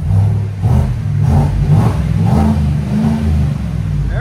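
A 2024 Chevy Tahoe's 5.3L V8, fitted with a cold air intake, revs in a series of rising and falling surges over a deep, loud, close exhaust rumble.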